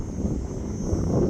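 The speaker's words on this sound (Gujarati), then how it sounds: "બે હેલિકોપ્ટર નીકળ્યા" Two helicopters passing overhead nearby outdoors, a low rumbling engine drone with wind buffeting the microphone, brief and steady.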